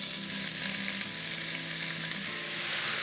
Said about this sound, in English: Heat a little extra virgin Greek olive oil to start this dish. The first thing that goes in here are chopped red onions.